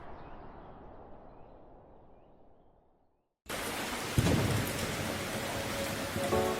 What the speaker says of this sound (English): After 6 months of severe drought, heavy rains finally arrive, reviving the Ruaha River.